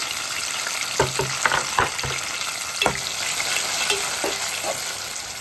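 Cut tomatoes frying with green chilies in a pan for brinjal tomato chutney, a constant hissing sizzle overlaid by several clear taps and scrapes of a stirring spoon.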